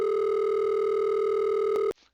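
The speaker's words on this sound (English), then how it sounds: "you'll hear the warbling right away if I play this now" Steady pure tones generated in Audacity, forming monaural beats with a faint warbling pulse, loud and unbroken for about two seconds before stopping abruptly, followed by a short soft noise.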